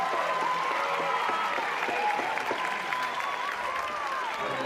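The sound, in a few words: applause from a sellout softball stadium crowd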